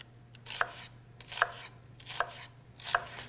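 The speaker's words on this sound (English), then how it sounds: "We're going to cut onion down, and then we're just going to dice" Four evenly spaced knife chops dicing an onion on a cutting board, crisp and close, with a low steady hum underneath.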